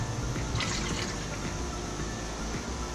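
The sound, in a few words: brake fluid poured into a car's brake fluid reservoir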